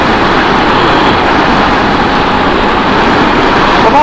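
A 2024 Honda CB1000R Black Edition runs flat out on a motorway, giving a loud, steady roar of engine and wind noise that holds without letting up.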